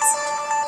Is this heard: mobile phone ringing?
yes